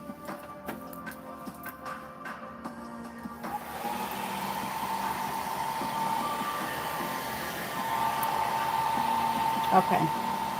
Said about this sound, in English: And the dryer, it's not terrible either.